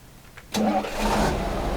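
A tree pruning road maintenance vehicle in Road Maintenance Simulator cranks and its engine catches at once, settling into a steady, close mid-pitched idle that continues with a slight rise in level.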